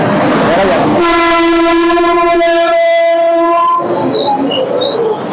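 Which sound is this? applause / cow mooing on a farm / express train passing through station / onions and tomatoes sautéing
express train passing through station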